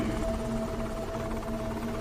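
An A24 helicopter in a science-fiction short film gives a steady, moderately quiet mechanical hum with a constant tonal drone throughout.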